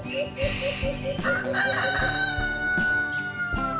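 Chickens cluck in a quick, steady rhythm close by while a rooster lets out a long cock-a-doodle-doo over them, with a faint voice in the background.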